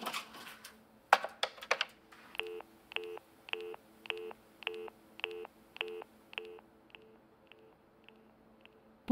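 Telephone being dialed: clicks of handling, then a row of about a dozen short, evenly spaced keypad tones, fading toward the end in a quiet room with no talk.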